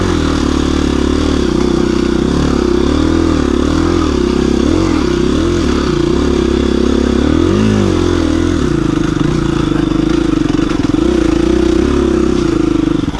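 A KTM 350 EXC dirt bike rides in second gear on an off-road trail, its engine loud and close throughout, droning steadily with brief pitch swells as the throttle changes.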